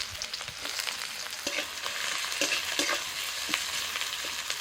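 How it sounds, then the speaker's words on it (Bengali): Chopped onion and green chilli fry in oil with a constant close crackle, broken by repeated scraping strokes of a spatula stirring the pan. "তেলের মধ্যে আমি কাঁচা লঙ্কা দিয়ে দিচ্ছি হাতে দিচ্ছি পেঁয়াজ কুচি"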